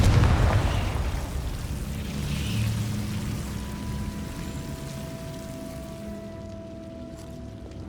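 A Confringo blasting spell in Hogwarts Legacy bursts with a loud explosive boom at the start, then a rumbling crackle and debris settling that fades over several seconds.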